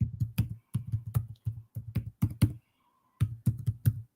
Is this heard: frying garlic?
no